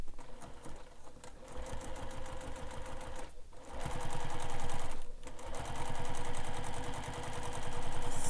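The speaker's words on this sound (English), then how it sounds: "I'm just stitching down that line again." Sewing machine stitching a leather wallet, a steady rapid mechanical chatter that runs almost continuously, with brief pauses and restarts as each seam line is sewn.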